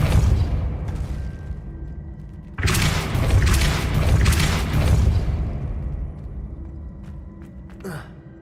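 A Depulso spell goes off in Hogwarts Legacy, a sudden loud whooshing blast that swells for a few seconds and then fades away, followed by a short crackling flicker near the end.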